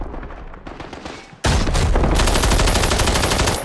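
An RPD machine gun in the video game Arena Breakout fires in long sustained bursts, rapid loud cracks that grow sharply louder and denser partway through, with no talking.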